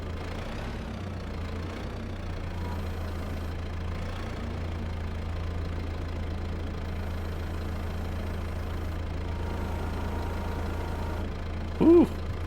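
Tractor engine in Farming Simulator, idling and labouring under a heavy load lifted on forks, a steady low drone throughout with a short brighter tonal blip near the end.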